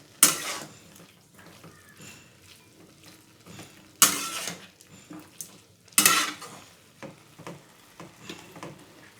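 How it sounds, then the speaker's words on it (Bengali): A spoon stirs bathua greens and mixed vegetables in a pot, with clanks of utensil on metal at intervals, some loud scrapes and softer rustling stirs in between, near and without talk. "ভালো করে নেড়ে সব সবজি শাক সব একসঙ্গে মিশিয়ে দেবো"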